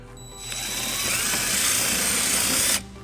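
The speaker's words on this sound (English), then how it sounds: "we're gonna go ahead and drill our first hole using a 3/16 drill bit" A power drill with a 3/16-inch bit whirs up and bores steadily into a 2015 Nissan Murano for a couple of seconds, its high-pitched grinding whine loud and close, then cuts off abruptly.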